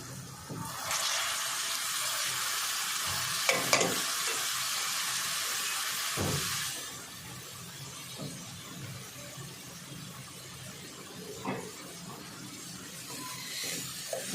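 Sprouted moth beans sizzle and fry in a pan over lowered heat, cooked dry without added water, a steady hiss that fades after a few seconds, with occasional clinks of stirring.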